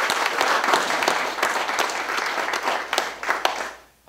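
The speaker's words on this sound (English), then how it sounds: "let's all give Eastwood a round of applause" An audience at a DreamGiveaway Jeep giveaway event applauds for the Eastwood Company, with steady dense clapping that holds for about four seconds and then tapers off.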